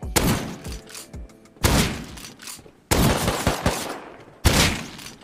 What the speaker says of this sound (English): Just use a pump shotgun like this guy.